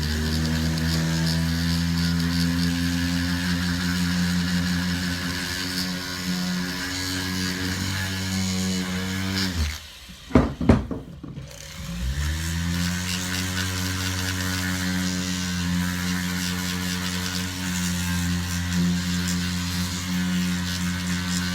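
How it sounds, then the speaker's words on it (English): A rotary tool sands the power valve flap of a Yamaha YZ250 two-stroke, giving a steady, close, droning whine that stops briefly around the middle before running on evenly. "In this case I can't see anything, so I'll just keep sanding away for a bit."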